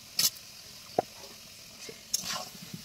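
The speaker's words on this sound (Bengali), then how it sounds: "এই যে আমার আলু ভাজাটা হয়ে গেছে, দেখো লাল লাল হয়ে গেছে" Frying potatoes in a home pan give a faint, steady sizzle broken by a few sharp utensil clicks and scrapes.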